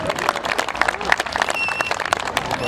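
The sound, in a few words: audience applause at football award ceremony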